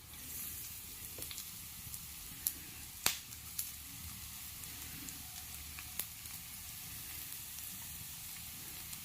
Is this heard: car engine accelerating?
no